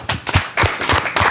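Studio audience clapping for a guest on a Martinique TV show, a short burst of sharp, uneven hand claps close by, with no talk.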